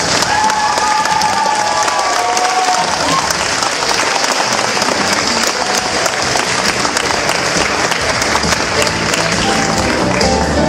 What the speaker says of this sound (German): So, dann nochmal einen herzlichen Applaus für alle unsere Teilnehmer.